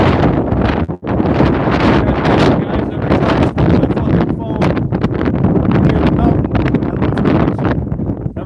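Strong wind buffeting the microphone on a hike on the backside of Footman Mountain: loud, continuous roaring rumble that gusts and swells, with a momentary dropout near the start.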